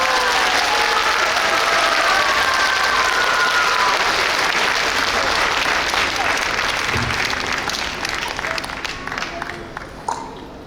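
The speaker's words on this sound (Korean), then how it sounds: "큰 박수로 모셔오겠습니다" Outdoor audience at a Korean traditional music event applauds to welcome a performer, a loud sustained wash of clapping that slowly fades toward the end, with some voices mixed in.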